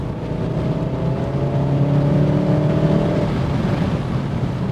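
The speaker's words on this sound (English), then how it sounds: "This is a quick car." A quick car pulls hard under steady acceleration, its engine tone climbing smoothly as the power builds, then easing off near the end. The engine noise is loud, close and continuous, with no talking.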